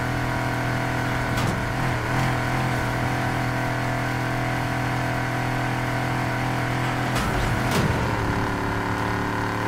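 A muscle car's engine drones and revs in Need For Speed Heat, a steady loud hum with a couple of brief surges, no speech over it.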